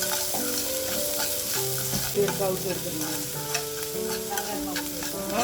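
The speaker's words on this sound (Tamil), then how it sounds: "2 பெரிய வெங்காயத்தை பொடியாக கட் பண்ணி சேர்த்துருக்கேன். வெங்காயம் கொஞ்சம் வெந்து நல்லா கலர் மாதிரி வரணும்." Two large finely chopped onions frying in a little oil in a pan, a dense continuous sizzle with scraping stir strokes close up, no speech.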